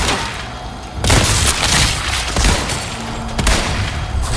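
Heavy booming rifle shots from a sniper rifle firing at a monster in Resident Evil 4 Remake, loud and close, with a couple of big blasts and rumbling tails and game sounds between them.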